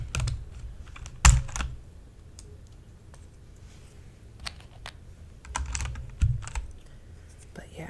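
Fingers type on a keyboard fitted with new keycaps, giving close, soft clicks in loose irregular runs with occasional louder knocks and quiet stretches between.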